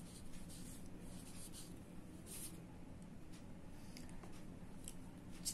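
A pen writing by hand on paper gives a soft, continuous scratching of short strokes and small taps, close and quiet over a low room hum.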